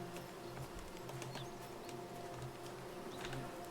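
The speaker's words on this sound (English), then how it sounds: "Okay, I can hear some bees." Bees buzz around a beehive on a tree stump in the video game Among Trees. The low insect hum is faint and continuous, with soft ambient chirps in the background.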